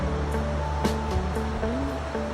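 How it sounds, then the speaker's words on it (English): A river fed by snowmelt from the mountains rushes in a continuous broadband roar at a riverside park walk, steady and fairly close, with a few faint sharper splashes over the wash. "That's where the water is coming from. It's flowing from up there and coming down."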